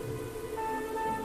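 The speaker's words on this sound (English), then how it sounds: "a forest where it rains every day" Steady rain falls through a damp prehistoric-style forest, a dense continuous patter that fills the short stretch evenly with no voices.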